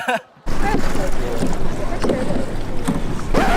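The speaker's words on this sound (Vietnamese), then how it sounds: "I'm struggling to row this kayak by myself" Kayak on the open sea in Ha Long Bay, paddled alone, with steady water sloshing and wind buffeting the microphone after a brief quiet start, close and fairly loud throughout.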